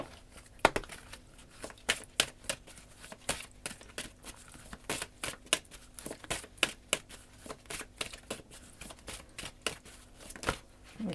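Tarot cards are shuffled and handled close by, giving a quiet, irregular run of soft snaps and taps with no talking.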